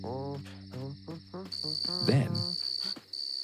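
Cricket chirping in a children's cartoon, a steady thin high-pitched trill running beneath a narrator's voice and music throughout.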